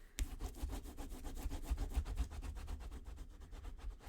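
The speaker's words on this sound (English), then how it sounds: "Give that a rub down." A page of a handmade black-and-white Christmas album being rubbed down by hand, giving a rapid, even series of soft scuffing strokes, close and quiet, with no talk.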